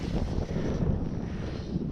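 Strong wind buffeting the microphone at a trout fishing lake, a dense continuous low roar filling the whole two seconds without letup, no speech.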